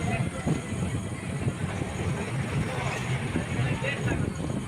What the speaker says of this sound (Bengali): এই দেখতে পাচ্ছেন আমাদের ট্রেনটা আস্তে আস্তে নিউ ফারাক্কা জংশনের দিকে এগিয়ে যাচ্ছে।